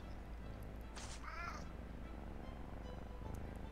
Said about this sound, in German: Wie die schnurrt.